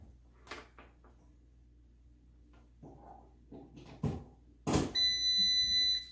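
After some handling thumps and clicks, a bread machine gives a steady, loud electronic beep lasting over a second just after it is plugged in.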